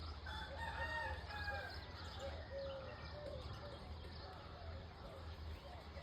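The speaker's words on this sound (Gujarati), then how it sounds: "પંખી પણ જાગી ઉઠ્યા છે, કિલવિલાટ કરી રહ્યા છે." Morning birdsong in a village rises from many birds waking and calling, with chirps and whistles scattered across the scene over a steady low rumble and faint voices.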